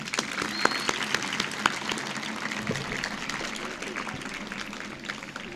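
Schoolchildren and an audience clap together at a school event in Hyderabad. The applause is continuous, quiet and somewhat distant, with no clear talk over it.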